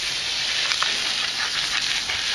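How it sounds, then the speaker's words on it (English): Wild-caught Alaskan salmon fillet sizzling on a heated Himalayan salt block, a steady close crackling hiss with small pops throughout. "So you can hear that sizzling."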